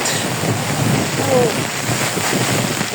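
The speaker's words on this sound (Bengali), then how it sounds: "দেখেন কি পরিমাণে বৃষ্টি আর কি পরিমাণে বাতাস, অনেক ঝড় তুফান শুরু হয়েছে" Heavy rain pours steadily while strong wind roars and buffets the microphone, a loud, continuous wash of noise.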